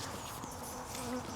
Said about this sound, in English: Yeah, so there's one or two bees there.